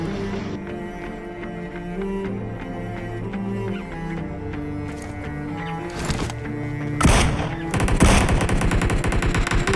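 Gunfire rings out in the mobile battle royale game BGMI, starting as sparse shots over game ambience, then breaking into loud, rapid automatic bursts near the end.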